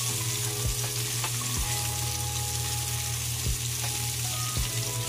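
Fish pan-fries until crispy, sizzling loudly and steadily up close, with a few sharp pops and crackles scattered through the continuous hiss and no voices.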